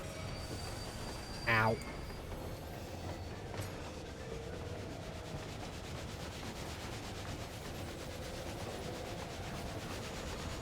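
A train rumbles steadily in the video game Final Fantasy XIV, a moderate continuous rolling noise with faint wheel squeal, briefly broken early by a short vocal exclamation.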